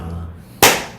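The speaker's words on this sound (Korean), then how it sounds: "슬레이트 쳐주세요." A single sharp clapperboard slate clap marks the start of a recording session. It comes after a quiet stretch of low hum and rings out loud and close before decaying quickly.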